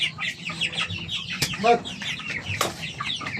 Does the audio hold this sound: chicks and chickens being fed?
yes